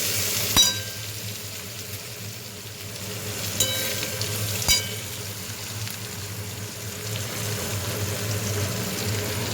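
Crushed garlic and panch phoron spices frying in hot oil, a steady close sizzle with a few sharp clinks of a utensil against the pan.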